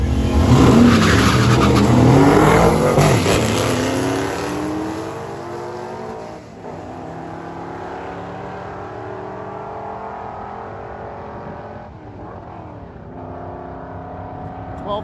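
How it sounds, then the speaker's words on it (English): A small LS-powered mid-engine Toyota truck launches hard on a drag strip, its V8 roaring loud and close as it shifts through rising sweeps, then fading into the distance down the track. "it's time to see the little Toyota truck get down for its first pass"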